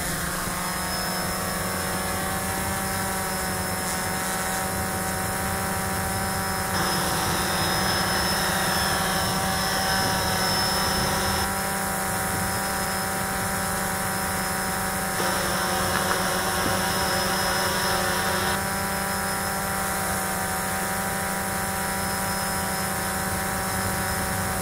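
An FPV drone's motors whine steadily for the whole stretch, a loud, constant buzzing drone with slight shifts in pitch and no voices.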